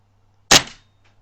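A single sharp gunshot, the last round in the magazine, cracks close and loud and then decays quickly into a short tail, with silence before and after.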